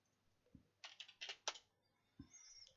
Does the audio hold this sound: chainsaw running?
no